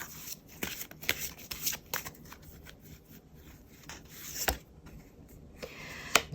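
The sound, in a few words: shuffling tarot cards to draw one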